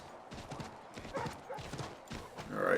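Horse hooves clip-clopping in the Assassin's Creed 3 video game, a steady rhythmic trot of soft, fairly faint hoof beats with no talking.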